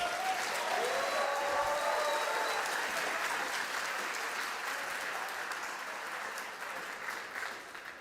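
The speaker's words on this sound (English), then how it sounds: "Big applause." Applause fills a hall after a business presentation at a Formula Student competition final, a dense, sustained clatter of many hands that slowly thins and fades, with a few faint voices and whoops mixed in.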